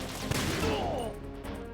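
Metal Gear Solid 2 gunfire, a short sharp shot followed by a burst of crackling fire and a falling whine, heard amid game noise.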